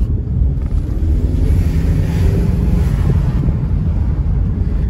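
A Ford Mustang with a 10-speed gearbox driving fast, its dense low rumble and road roar steady and loud throughout, mixed with some wind buffeting and no voices.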